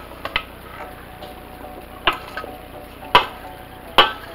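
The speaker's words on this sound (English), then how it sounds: "Just mix it well." A spoon knocks against a pan while garden rotini salad is tossed, giving a handful of sharp, scattered clinks and taps over quiet scraping in a kitchen.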